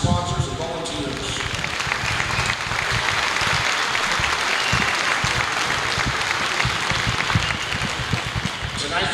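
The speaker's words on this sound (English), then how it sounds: "Let's give a round of applause for these sponsors and volunteers." A crowd at a high school wrestling duals event in Wichita, Kansas applauds sponsors and volunteers, loud dense clapping filling the arena throughout, with a voice over a speaker at the very start.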